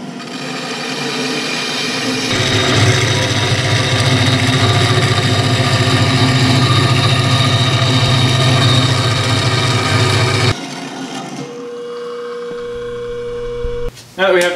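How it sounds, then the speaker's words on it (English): Saw cutting 1-5/8 inch steel tubing, a loud steady grinding drone that starts after a couple of seconds and runs for about eight seconds. It stops abruptly and is followed by quieter mechanical sounds and a brief clunk. "We're going to cut this down in the saw real quick so it's a little more manageable"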